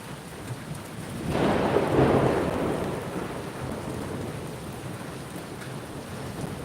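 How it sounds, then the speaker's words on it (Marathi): Thunder rolls in with a deep swelling rumble that peaks and slowly fades, over a steady soft patter of light rain that continues alone afterward. "आता आवाज येतोय गडगडाट ढगांचा पण जोर नाही आहे पावसाला"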